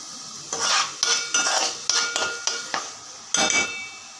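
A spoon scrapes and stirs ground masala with coriander powder into a bottle gourd and egg curry in a metal pan, in a run of close, uneven scraping strokes with short pauses between them.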